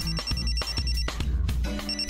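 A phone rings in a Marathi TV serial scene, a loud musical ringtone pulsing in quick repeated beats close by, with no talking.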